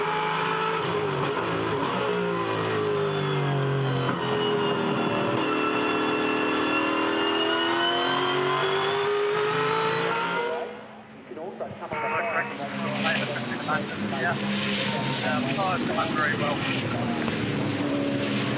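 V8 Supercars scream down the run to turn 7 at Barbagallo Raceway in Perth, a loud sustained engine wail that drops away briefly, then rises again as more cars howl through, with commentary throughout.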